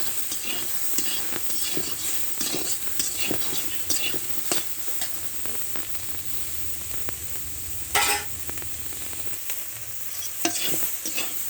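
Soybean chunks frying with salt in oil in a wok, a steady soft sizzle with scraping stirs throughout and a brief louder clatter near the end, no voices.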